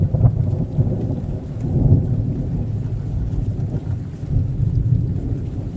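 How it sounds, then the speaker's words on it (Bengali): Steady, heavy rain pours throughout, with deep rolling thunder swelling under it, strongest near the two-second mark. There is no talking. "একদিন বৃষ্টি।"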